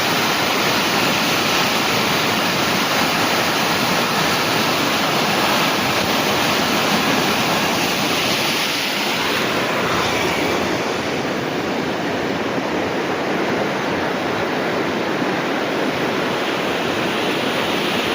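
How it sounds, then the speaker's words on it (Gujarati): Water rushes and roars continuously from an overflowing pond after heavy rain in Naswadi, Chhota Udaipur, a loud, steady torrent, with no voices. "તલાવ હાઉસ ફૂલ તલાવનું પાણી બધું નકેડ્યું"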